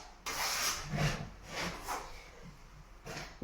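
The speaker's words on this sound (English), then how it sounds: "you're going to bring the trowel out a bit more to rule it off" A plastering trowel rules off wet filler on a plasterboard repair, giving a run of soft, scraping rubs in steady back-and-forth strokes, close by and moderately loud, with no speech.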